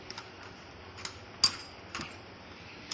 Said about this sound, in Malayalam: ഇത് മുറുക്കിയതിന് ശേഷം സ്പാനർ വെച്ച് നട്ടൊന്ന് നല്ലോണം മുറുക്കുക.